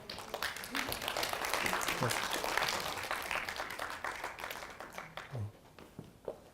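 Audience at a real estate investment seminar in Korea claps, the applause swelling then thinning into scattered claps, with a voice speaking intermittently over it.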